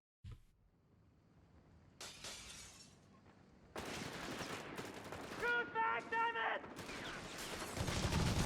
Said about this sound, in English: The 30 cal gets firing a smidge earlier.